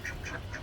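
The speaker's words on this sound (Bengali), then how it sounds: "হাঁস খালি সইরা যেতেছে" Ducks kept on a rooftop quack in short repeated calls while being fed a water-mixed feed, the nasal quacks coming in quick bursts nearby against a low background hum.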